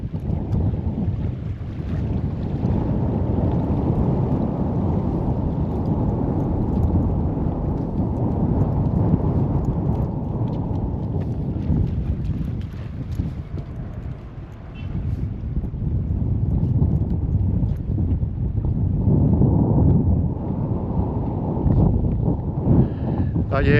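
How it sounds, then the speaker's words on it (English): Strong wind buffeting the microphone beside a lake, a heavy continuous rumbling roar that dips briefly midway before surging again, with no voices heard. "you can hear it's windy and horrible"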